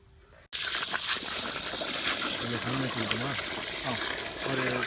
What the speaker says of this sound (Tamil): அப்படியே தண்ணி போட்டு ஊற்றிக்கோ.